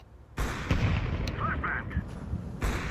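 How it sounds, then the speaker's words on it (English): A flashbang grenade goes off in a shooting video game as a loud, booming burst, followed by rumbling game noise and a second burst near the end. "I throw the flashbang."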